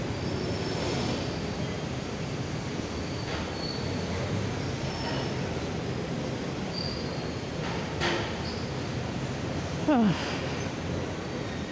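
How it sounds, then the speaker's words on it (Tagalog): A Manila MRT train rumbles into the station with a continuous roar, faint clicks, and a short rising wheel squeal near the end. "May parating na nga MRT."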